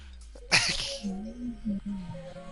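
A single sudden sneeze bursts out up close, then a voice hums and murmurs quietly over a low background.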